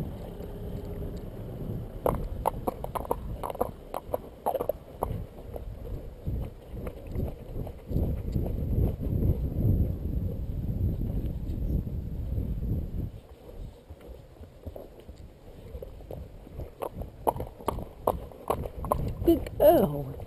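A horse walks, its hooves clip-clopping in an irregular rhythm mixed with wind and rustling noise, then the steps slow, pause briefly and resume toward the end.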